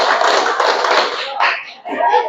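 Many hands clap in unison in the counted 'tepuk' clapping routine, a loud continuous burst of clapping that breaks off briefly before resuming, with voices chattering under it.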